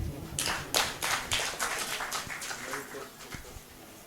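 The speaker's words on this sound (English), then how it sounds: "Another round of applause for emeritus Professor Babatunde Ikotun, FAS." A seated audience applauds at an academic discussion group event, a burst of dense clapping that swells quickly and then tapers off over a few seconds.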